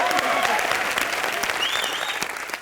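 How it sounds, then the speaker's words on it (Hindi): Audience applause for a newly married couple on a comedy show stage, steady and loud throughout, with a rising whistle-like tone partway through. "चलिए हमारे न्यू मैरिड कपल अविनाश और संभावना के लिए जोरदार तालियां।"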